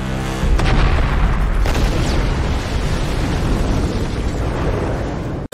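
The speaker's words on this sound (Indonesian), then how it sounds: "dan bom pun langsung meledak" A loud, deep bomb explosion bursts and rumbles on in a long, roaring decay, close and powerful, ending abruptly.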